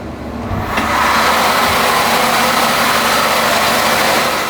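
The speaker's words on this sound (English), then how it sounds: "Engine room checks and logs are required by all crew members, not just Tilo the engineer." Engines drone in the engine room of a super yacht, a loud, dense, unbroken roar with a deep rumble underneath that swells in over the first second and then holds steady throughout.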